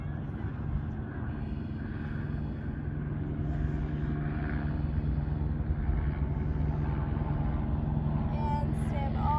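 Helicopters fly over the top of Runyon Canyon in Los Angeles, producing a continuous low rotor and engine drone that fills the background, steady and moderately distant throughout.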